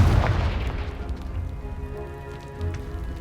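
A Confringo blasting spell bursts a debris pile in Hogwarts Legacy on Xbox Series X, a heavy booming explosion followed by a rumbling patter of falling rubble that fades gradually, loud and close.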